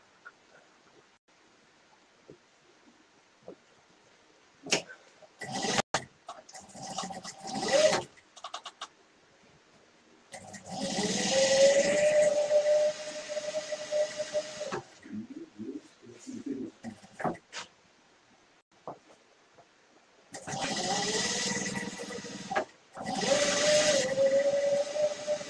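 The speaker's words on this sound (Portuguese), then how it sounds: "Agora vou costurar o fundo." A sewing machine stitches the bottom seam of a fabric bag: close, sustained whirring runs with a rising motor pitch, broken by short quiet pauses and a few clicks.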